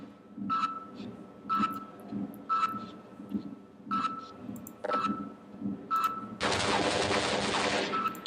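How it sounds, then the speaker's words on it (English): Automated gun turret in Half-Life firing in short repeated bursts, about once a second, then a long loud continuous volley of gunfire at the end. "This sneaky gun turret."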